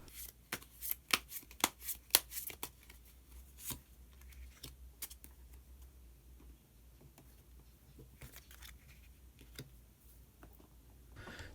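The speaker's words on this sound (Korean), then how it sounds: "마지막으로 히든 카드 한 장 더 뽑아보도록 하겠습니다" Tarot cards are shuffled by hand to draw one more hidden card, giving a burst of sharp riffling snaps and taps up close early on that thins into soft, scattered card rustles.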